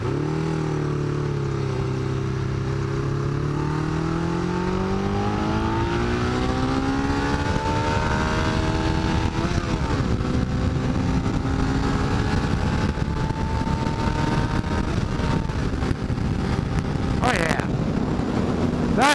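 A Yamaha XJ600 motorcycle engine with freshly tuned carburetors revs up, its pitch climbing smoothly and then holding high for a sustained run, loud and close with steady roar.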